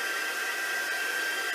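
A dryer blows steadily on a wet paint layer in an art journal, making a constant airy whoosh with a thin whine, close and uninterrupted, no talk.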